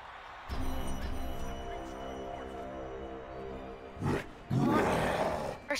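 A siege unit in the video game Smite lets out a deep, growling roar, fairly quiet under a low steady game hum, followed by a couple of harsher bursts.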